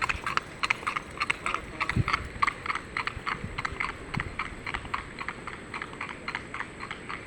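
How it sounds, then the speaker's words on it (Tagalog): Steady clip-clop of a horse's hooves on a hard road, a quick regular rhythm of sharp clacks running throughout at moderate distance. "Pangalawang kabayo na yun."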